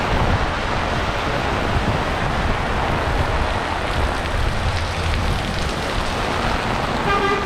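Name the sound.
rain on tin roof during tropical storm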